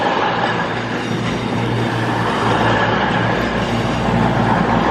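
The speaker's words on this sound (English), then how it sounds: "Work service from Holyhead to London Euston." A train passes at Crewe station, a Holyhead to London Euston service: a loud, steady low rumble with rail noise runs continuously throughout, close and alone.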